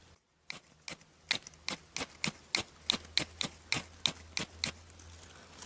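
A fire steel is struck to light a campfire in the woods, giving about fourteen sharp, close scraping strikes in a quick, steady rhythm.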